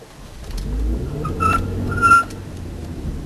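Toyota Prius hybrid pulling away from a stop, a soft low rise in engine and road hum with a faint electric whine, heard from inside, brief and fairly quiet.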